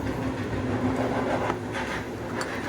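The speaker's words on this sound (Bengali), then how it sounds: "আর বাড়ির সামনে দিয়ে সবসময়তেই ট্রেন" A train rolls past in front of a house, a steady, close rumble of rail cars filling the whole stretch without pause or voices.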